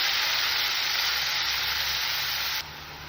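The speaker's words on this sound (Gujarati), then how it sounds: "હિંગ, હળદર નાખીને પછી ભાજી નાખી દઈએ." Chopped greens dropped into hot oil already holding green chilies, asafoetida and turmeric, giving a steady, close, loud sizzle and frying hiss that drops a little toward the end.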